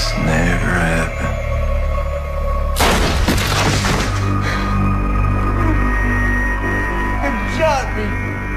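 A single booming gunshot rings out in a Lifetime thriller movie scene, a sharp broadband blast near the middle, followed by a steady low hum and music-like tones, with voices speaking before and after it.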